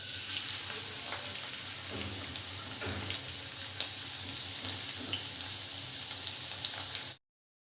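Finely chopped ginger and garlic sizzle in hot oil, a steady, close frying crackle with small pops that runs on for several seconds, then cuts off abruptly.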